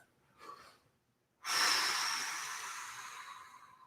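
A short soft sound, then a loud forceful sighing exhale through the mouth during a vocal warm-up exercise that gradually trails off, close to the listener.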